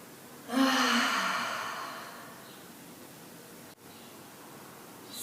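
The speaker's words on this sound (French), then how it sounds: "prenez une respiration profonde, inspirez et expirez par la bouche" A single deep breath drawn in and let out through the mouth during a guided breathing exercise, a soft airy rush that swells loud and close, then fades slowly with no voice over it.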